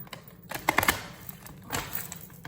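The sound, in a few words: shuffling thick tarot cards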